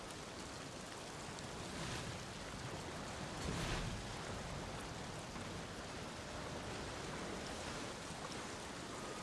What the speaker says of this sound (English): Doesn't seem like the rain stopped.